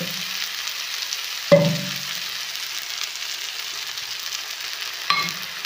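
Quiet sizzling of spice paste being cooked down in a pan, with two sharp clanks of a utensil stirring against metal, otherwise steady low frying noise.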